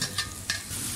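Fried okra tossed into a masala in a pan, giving a brief close sizzle with two quick stirring scrapes over steady frying.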